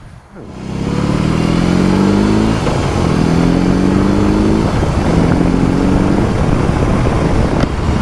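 A BMW R18 Bagger motorcycle engine pulling hard through several rising revs, each climb in pitch followed by a shift and another surge, loud and close throughout.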